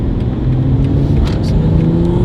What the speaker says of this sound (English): Yeah, that turbo already sounds crazy.